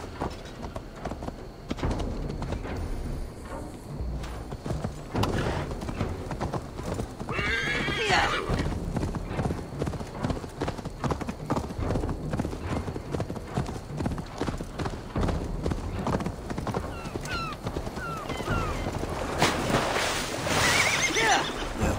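Rhythmic clip-clop of horse hooves from a video game adventure, steady and close, with several whinnies breaking through over game ambience.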